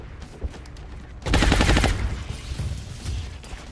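Rapid automatic gunfire from the game XCOM, a dense close burst of shots lasting about a second, then scattered echoing reports and fainter pops that trail off.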